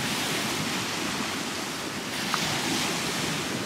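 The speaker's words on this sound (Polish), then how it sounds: "popatrzcie i posłuchajcie morza" Sea waves roll onto the beach at Hel, Poland, in the evening, a steady, loud, continuous roar of surf mixed with strong wind, with no talking.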